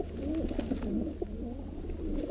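Pigeons coo softly and repeatedly in low, rolling calls, several overlapping phrases over a steady low hum, fairly close and without any talking.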